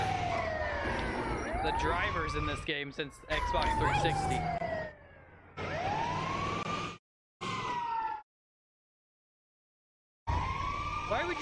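Emergency vehicle sirens wail in Grand Theft Auto V, rising and falling in loud sweeps mixed with other game sounds, then cutting out into silence before resuming; someone talks over them.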